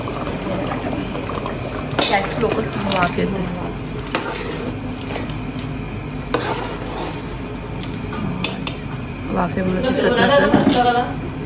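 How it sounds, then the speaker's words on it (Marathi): Dal is tempered with spices in a home kitchen, giving a steady bubbling sizzle with occasional clinks of a spoon against the pot, while people talk nearby. "वरणाला फोडणी वरणाला फोडणी देते"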